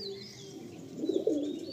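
Pigeons in a loft give soft, low coos that swell briefly near the end, fairly close, with a faint thin chirp above and no speech.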